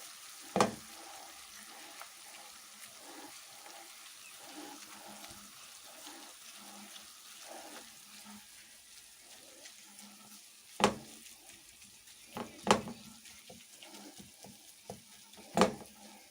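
Minced meat frying in a pan after softened onion, a low steady sizzle under repeated soft scraping and pressing as the meat is broken up, with a few sharp knocks of a utensil against the pan.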